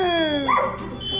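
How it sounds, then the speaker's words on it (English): A dog howling along with household smoke alarms set off by a fireplace fire, a rising and falling wail over the continuous shrill beep of the alarm. "How do you get your dog to howl?"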